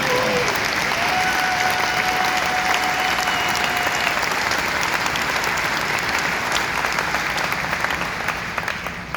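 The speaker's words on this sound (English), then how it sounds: "Let's give them a round of applause." A large audience applauds at a foundation event on maternal and infant health programs in Nigeria, sustained dense clapping that stays loud and steady for about nine seconds before thinning slightly at the end.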